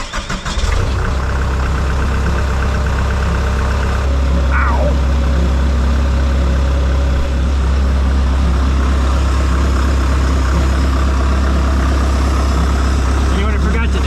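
ASV RT120 compact track loader with a leaking main hydraulic tank cranks and fires at once, then settles into a loud, steady diesel idle that runs on unbroken.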